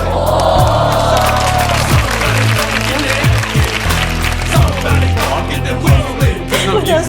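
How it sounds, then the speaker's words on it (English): Loud crowd applause and cheering fill the space continuously, with rhythmic thumping underneath. "But I want you all to give up a huge round of applause to Yesenia Serrano"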